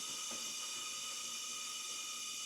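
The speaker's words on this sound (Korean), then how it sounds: "자, 진공으로 빠는 겁니다." A vacuum suction machine draws residual engine oil out through a dedicated hose during an oil change at a car repair shop, a steady broadband hiss with a faint gurgle, constant and fairly quiet, with no talking.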